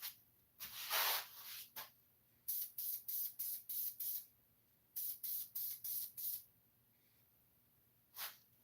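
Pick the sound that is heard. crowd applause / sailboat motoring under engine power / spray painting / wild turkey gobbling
spray painting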